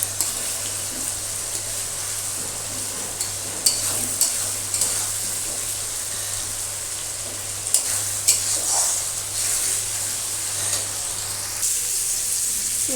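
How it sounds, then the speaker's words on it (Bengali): A spice masala with softened tomato fries and sizzles steadily in a pan, with a constant close crackle of hot oil and occasional scrapes and taps from stirring. "আমি এখানে 2-3 মিনিট ধরে মশলাটাকে ভেজে নিয়েছি"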